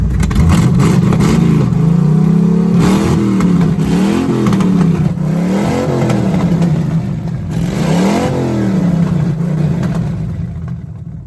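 A loud 1984 Pontiac Grand Prix race car engine idles roughly and is revved up several times in rising and falling surges, close to the listener.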